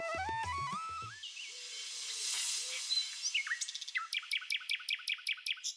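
Cartoon birds chirp and tweet: a run of stepped musical chirps, a pause, then quick repeated bright tweets, clear and close with no talking.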